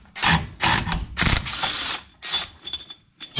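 A ratchet tool backs off the tie rod nut on a Foxbody Mustang, giving several quick bursts of clicking, close and loud, separated by short pauses, with no talking.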